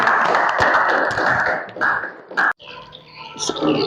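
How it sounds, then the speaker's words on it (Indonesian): Students in a classroom give a short burst of applause for a classmate, dense clapping that stops abruptly, followed by quieter room noise. "aplaus untuk temannya"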